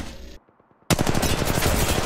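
Gunfire in Apex Legends Mobile, a short burst, then a near-silent pause, then a loud rapid volley of close shots.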